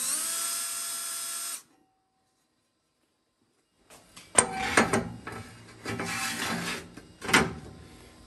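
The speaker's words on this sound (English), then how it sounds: "And we'll chamfer that hole." A power tool whirs in several short bursts, chamfering a drilled hole in metal for a bicycle repair stand after a brief silence; the bursts are close and fairly loud.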